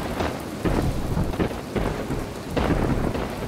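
A thunderstorm with heavy rain in the video game From the Depths, a steady, loud wash of rainfall with deep rumbling thunder rolling throughout, and no voices.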